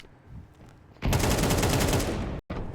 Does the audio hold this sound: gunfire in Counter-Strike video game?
yes